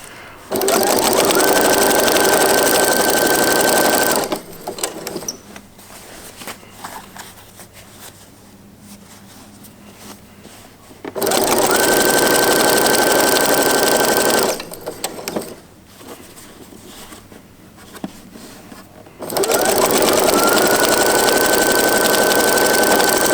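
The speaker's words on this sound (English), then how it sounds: "So that's the binding sewn on by machine." A sewing machine sews binding onto a quillow in three long, loud, steady runs, each ramping up in pitch at the start, with quieter pauses of handling and fabric noise between them.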